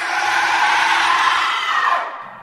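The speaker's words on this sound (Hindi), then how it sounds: "देवी के अंदर से एक जोरदार चीख निकली।" A loud, piercing scream bursts from a goddess idol in a horror story, one sustained shriek held for about two seconds before it fades, heard alone.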